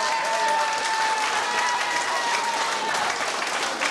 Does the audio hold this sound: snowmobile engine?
no